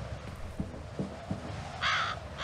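A crow caws in the video game F.E.A.R., first a few soft low calls under wind-like game ambience, then one louder, harsher caw near the end.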